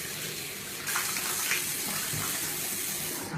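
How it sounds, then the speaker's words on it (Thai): Running tap water pours steadily while someone washes their face with a bar soap containing comfrey flower, a continuous close, even splashing hiss with no talk. "เราไปล้างหน้าเลยก่อน"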